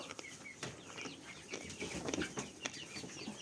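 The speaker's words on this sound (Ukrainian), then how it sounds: "Мої курчата хочуть їсти." Chickens cluck and shuffle inside a barn while waiting to be fed, soft scattered clucks and occasional sharp calls with rustling and wing movement, fairly quiet and close.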